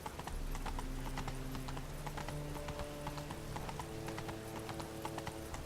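Roach, the horse in The Witcher 3, gallops with quick, rhythmic clip-clop hoofbeats, steady and close, over a soft game music bed.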